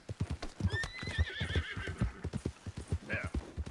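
A horse in Red Dead Redemption 2 clip-clops along in a quick, even hoofbeat rhythm, loud and close, while a whinnying neigh rises over the steps partway through.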